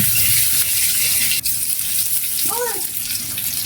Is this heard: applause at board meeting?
no